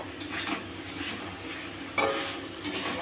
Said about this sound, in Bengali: এবার আমি একটু হালকা করে নেড়ে নেবো